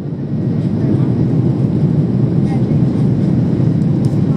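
Steady, loud engine roar inside the cabin of an Emirates Airbus A380 as it lifts off on takeoff, a dense continuous rumble with no break throughout.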